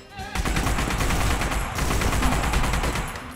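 Rapid automatic gunfire in the Saints Row video game, a loud close burst of dense, evenly spaced shots running almost continuously with a short break partway through.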